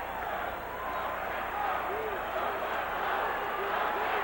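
A full-house college football stadium crowd at Northwestern versus Michigan in 1980 sends up a steady, broad roar that holds at a constant loud level throughout, with a commentator talking over it.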